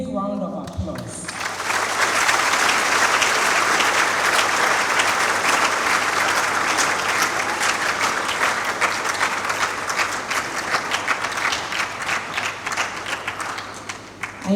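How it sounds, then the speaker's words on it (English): Sustained audience applause fills a room at a university speaker-series honor ceremony, steady and loud for over ten seconds after a brief start, with dense clapping and crowd noise throughout. "You deserve a big round of applause."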